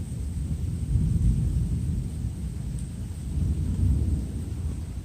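Thunder from a nearby lightning strike during a tornado-warned storm rolls as a deep, sustained rumble, swelling and fading over several seconds, loud and low with no talk.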